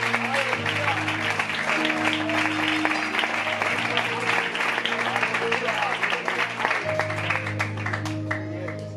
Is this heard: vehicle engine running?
no